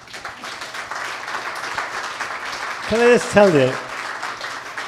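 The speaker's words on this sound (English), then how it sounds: "That deserves a clap." An audience applauds at a farewell event honoring soccer player David Villa, a steady wash of crowd clapping running throughout while someone speaks over it.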